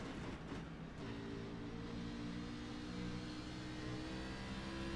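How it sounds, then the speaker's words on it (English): The engine of the number 16 race car keeps running after a crash, a steady mid-pitched drone at a constant idle-like level with no voices over it. "Alright, sounds like the engine's still running good there, Kynan"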